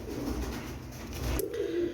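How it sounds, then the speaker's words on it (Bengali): A pair of teddy pigeons coo softly, with low murmuring calls under a dull background hum and a slightly clearer coo toward the end. "এক জোড়া টেডি কবুতর"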